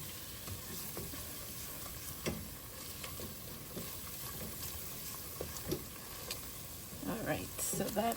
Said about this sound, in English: I just want to melt the butter.